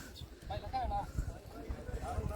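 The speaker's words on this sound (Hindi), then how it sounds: "अभी आप देख सकते हो काफ़ी घोड़े आ चुके हैं और भी घोड़े आने वाले हैं" Horses gather before a horse race in Bhachau, Kutch, with hooves clip-clopping on the ground in an uneven patter under steady crowd talk and outdoor bustle.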